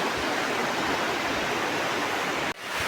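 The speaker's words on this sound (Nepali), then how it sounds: "सेफ फोक्सुन्डो तालबाट आउने खोला नै हो यो, सेफ फोक्सुन्डो खोला भन्छ यसलाई" Rushing river water flows out of Shey Phoksundo Lake in Dolpa, a dense, steady roar filling the whole stretch up close, with a brief dip near the end.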